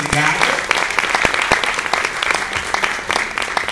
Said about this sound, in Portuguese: aplausos para as duas